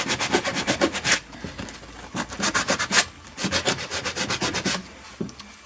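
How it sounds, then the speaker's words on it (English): Sandpaper scrubs paint off a part by hand in quick back-and-forth strokes, a close, rhythmic rasping in bursts with short pauses between. "Get rid of that paint, get it nice and clean, bit of sandpaper"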